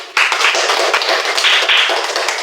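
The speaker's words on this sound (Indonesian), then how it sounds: "Oh iya, tepuk tangan dulu buat semua." Primary school pupils clapping their hands together in a classroom, a sudden loud burst that starts abruptly and continues as dense, close clapping for a couple of seconds.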